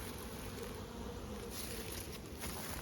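Hornets and wasps buzz around beehives, a steady close insect hum with no voices.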